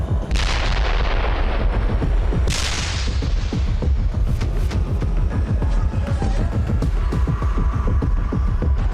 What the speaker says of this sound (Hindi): इस बम के धमाके से 370 मीटर का इलाका जमींदोज हो जाता है।